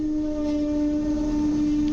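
A double-decker Koleje Mazowieckie passenger train at Warszawa Śródmieście, a steady hum with a strong sustained tone over low rumble, continuous and fairly loud with no talking.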